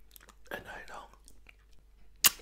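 Close, quiet ASMR eating of soft quark with wet mouth sounds and faint whisper-like breaths, then one brief, sharp smack near the end, like finger licking.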